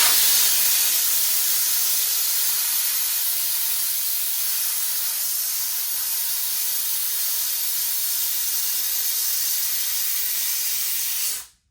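Compressed air hisses loudly and steadily into a motorcycle street bike tire to seat the bead on a tire changer, a continuous high rush lasting about eleven seconds before it abruptly cuts off.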